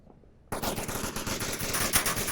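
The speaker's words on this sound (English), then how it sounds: "Zero from the motel got a headshot on Drunk Drummer on the roof." Dense automatic gunfire from the VR shooter game Onward, played in a competitive league match, suddenly bursts in after a near-silent start and continues as a loud, rapid, unbroken stream of shots.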